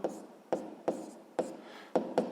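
A pen scratches out a sixth-grade math solution by hand in a series of short, distinct strokes, about six in quick succession. The strokes are close and quiet, with no talking over them.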